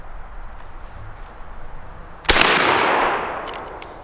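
A shotgun fires a single load of double-aught buckshot outdoors, one sharp loud blast followed by a long decaying rumble and echo, with faint ambient noise before the shot.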